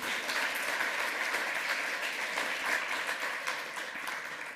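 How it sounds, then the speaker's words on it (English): Applause from the crowd at a Chaos Communication Congress lightning-talk session, a full, continuous patter of many hands at moderate distance, steady throughout and easing slightly at the end, with no talking. "Huge round of applause for that guy behind the board over there"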